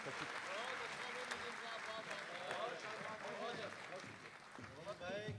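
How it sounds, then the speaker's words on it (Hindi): An audience at a mushaira poetry gathering in Dubai claps in a sustained, dense patter of applause, with voices mixed in over the clapping throughout. "तालियों की जरा सी गूंज बढ़ा दीजिए"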